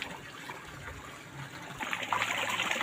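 Water runs from a motor pump to fill a trough for cattle, a steady close trickling gush that grows slightly fuller toward the end.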